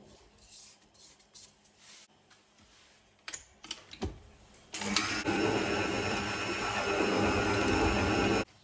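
Stand mixer kneading donut dough, with quiet clatter and handling noises first and then a loud, steady motor whir that starts abruptly and runs continuously to the end.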